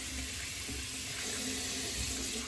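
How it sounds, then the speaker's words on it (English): Water runs from a tap as a brush is rinsed under it, a steady, close rushing splash that holds constant throughout with no talking. "I'm gonna rinse off my brush."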